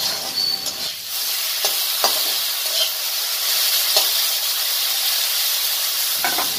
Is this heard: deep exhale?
no